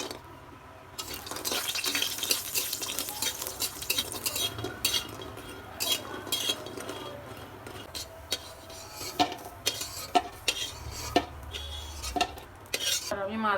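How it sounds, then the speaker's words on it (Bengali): Lentil dumplings (kumro bori) frying in oil in a wok, with a steady low sizzle under repeated clinks and scrapes of a utensil stirring against the metal pan, close and moderately loud throughout. "প্রথমে আমি কুমড়ো বড়িটা ভেজে নেব"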